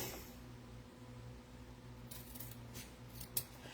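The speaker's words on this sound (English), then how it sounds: "I always cut one tail a little bit longer than the other two." Scissors snip a ribbon tail while finishing a bow on a winter flower arrangement; a few quiet, crisp cuts come near the end over a faint background hum.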